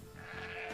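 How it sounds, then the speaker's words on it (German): A sheep in the strategy game Age of Empires 2 gives a short, faint bleat over a quiet game background, with no talk. "Ist alles voll mit Schafen."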